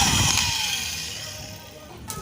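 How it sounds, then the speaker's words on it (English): A drill with a 10mm bit bores out excess weld from a welded bolt, a loud continuous whine that slowly fades over the span before a brief renewed burst at the end. "I'm going to use also a 10mm drilling bits to deal with this welding"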